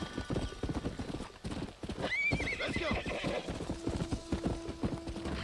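Horse galloping with rapid hoofbeats, then a loud whinny mid-way, ridden in the Western video game Red Dead Redemption; hooves continue steadily afterward with a low tonal hum in the background.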